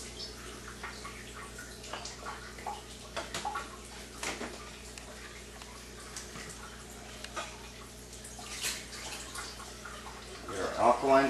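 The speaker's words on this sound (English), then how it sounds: "Rinse it out nice and good" Water runs from a KYK Harmony water ionizer as a sample cup is rinsed out, a steady close wash with small drips and splashes that grows louder near the end.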